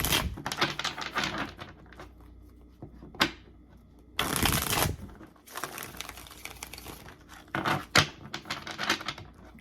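Tarot cards being shuffled close by in crisp bursts of riffling and flicking, separated by short pauses, with no voices.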